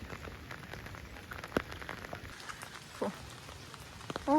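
Rain falls steadily in a soft, constant patter, with a few sharper drop hits near the end, heard alone without speech.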